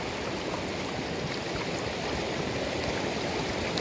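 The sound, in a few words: flowing stream water being fetched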